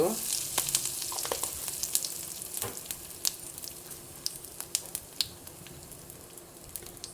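Cumin seeds and asafoetida hitting hot oil for Marathi chinchakadi rice: a bright, close sizzle with scattered sharp pops and crackles, loud at first and easing slightly over several seconds.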